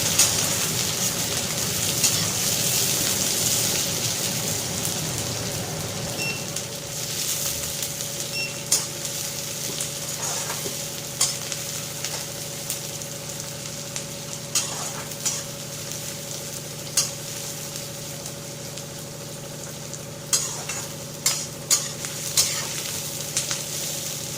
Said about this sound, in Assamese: পিঁয়াজখিনি অকণমান ৰঙচুৱা হোৱালৈকে ভাজিব লাগিব।